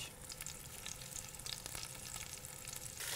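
Lamb shoulder searing in a cocotte over high heat gives a steady, dense sizzle with crackling spits throughout, loud and close, rising slightly at the end with no talking.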